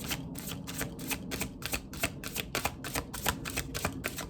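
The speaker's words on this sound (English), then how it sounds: "Let me see if I can shuffle them this way." Oracle cards are shuffled by hand in a quick, even rhythm of soft papery slaps, about three per second, close and fairly quiet.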